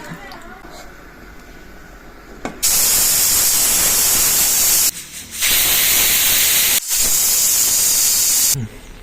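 A pressure cooker on the stove hisses steam loudly while mutton curry cooks, a steady jet of hiss broken by two short pauses and cutting off near the end, with quieter kitchen sounds before it starts.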